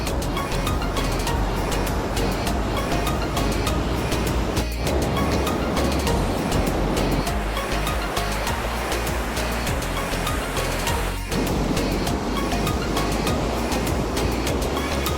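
Waves break continuously on the shore in a loud, steady wash of surf, with a few brief lulls between rolling crashes and no one speaking.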